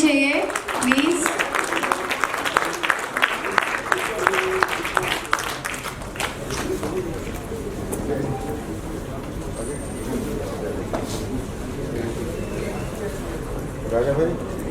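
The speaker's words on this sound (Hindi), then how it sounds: "तालियां बजती रहनी चाहिए प्लीज." Audience applause at a Hindi movie trailer launch with the star cast, a dense burst of clapping loudest in the first five seconds, then settling into steadier crowd clapping and murmur that carries on to the end.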